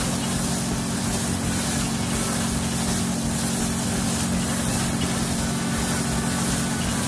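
A hay bale wrapping machine wraps bales outdoors, giving a loud, steady mechanical engine drone with rushing, churning noise that holds unchanged throughout.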